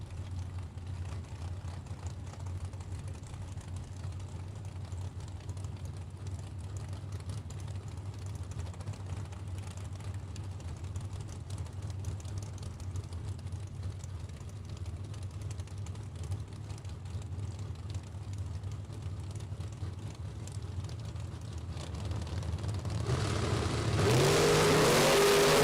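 Drag racing cars, a Corvette and a J&M Racing Chevy II Nova, at a Super Pro bracket race: a steady low engine drone idles at the line for a long stretch, then swells sharply into loud revving as the cars launch near the end.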